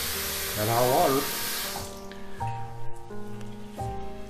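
Hot water gushes from a tap with a splashing rush for a couple of seconds, then gurgling and tonal pipe sounds as the flow changes while air is purged from a water heater system with a newly added pressure tank.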